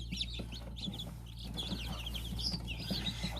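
Many high, thin peeps from plump newly hatched chicks overlap continuously, with a steady low hum from a Cimuka incubator running underneath throughout.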